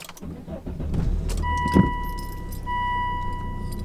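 A Volvo V70/S60 D5 2.4 five-cylinder diesel is cranked after priming. Keys jangle, the starter churns briefly, then the engine catches and settles into a steady idle with a faint whine.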